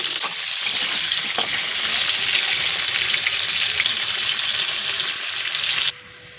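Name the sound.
potatoes frying in oil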